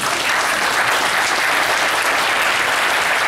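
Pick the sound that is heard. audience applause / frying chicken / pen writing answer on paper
audience applause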